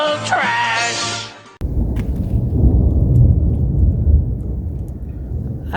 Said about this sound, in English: I figured I'd wait until after the thunder rolled.